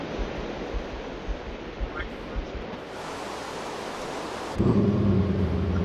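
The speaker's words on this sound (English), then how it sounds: "I think that's rain." Rain falling in the video game Minecraft, a steady broadband hiss that holds for the whole stretch and swells louder near the end, with faint low thumps underneath.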